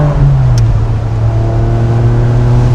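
A Ferrari 550 Barchetta with a V12 engine and manual gearbox drones loudly and close, its raspy note holding high revs and then easing slightly lower while the car drives on.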